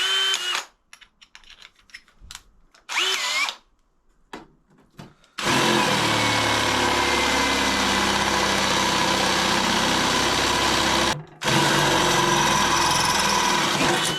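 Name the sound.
power drill drilling a bigger hole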